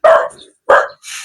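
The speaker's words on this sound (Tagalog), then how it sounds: "Galit yung aso." Angry dog barking near a cemetery: two loud, close barks about half a second apart, then a rougher, trailing growl-like call, with no talk.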